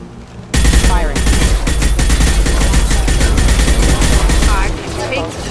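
Loud, sustained automatic gunfire in Mass Effect 2, a steady fast rattle of shots that runs for several seconds under battle noise and then eases off.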